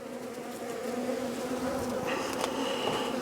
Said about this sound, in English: Now I have a lot of bees. They're telling me they're not happy.